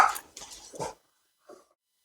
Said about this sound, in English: My dogs went crazy again, as usual.